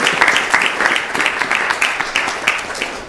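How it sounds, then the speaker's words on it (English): A room of people applauding at a temple gathering in Phoenix, steady close clapping filling the whole stretch at an even, sustained level. "we can give her a round of applause for her"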